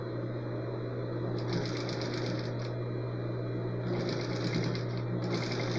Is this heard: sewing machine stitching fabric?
yes